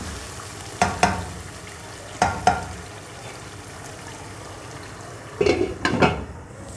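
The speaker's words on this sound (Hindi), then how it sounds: "इलायची और लौंग और दालचीनी डालेंगे। तो हम इसको 10 मिनट के लिए पकाएंगे।" Chicken korma with cardamom, cloves and cinnamon cooks in a pot, faint simmering broken by a few short bursts of stirring and spoon-on-pot clatter.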